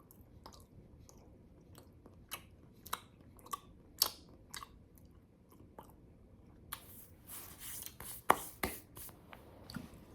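Peanut butter chewed straight from a spoonful, close and quiet, with a run of soft sticky mouth clicks and smacks that grows busier and slightly louder toward the end.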